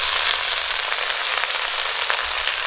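Washed leafy greens, red spinach, drop into hot oil over fried chopped onion and sizzle loudly and steadily with dense crackling throughout, no voices.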